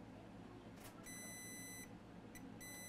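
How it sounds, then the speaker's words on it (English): A multimeter set to diode mode gives steady continuous beeps while probing for a short on an iPad board near an IC, sounding in two sustained bursts with a brief gap, close and clear over faint background hum. "We're gonna put the meter in diode mode."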